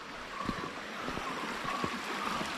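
Water from Soormane waterfall near Kalasa flows as a faint, even rushing hiss, soft and continuous with no voices.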